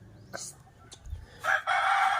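A rooster crows loudly nearby, preceded by a few short clucks and calls from chickens, with no talking.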